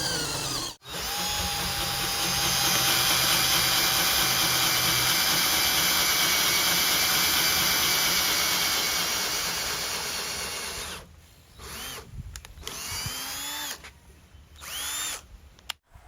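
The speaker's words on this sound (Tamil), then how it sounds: "ட்ரில் மிஷின் வந்து ஓடுது" An electric drill whirs steadily at close range in a scrap shop for several seconds, then cuts out and restarts in a few short bursts.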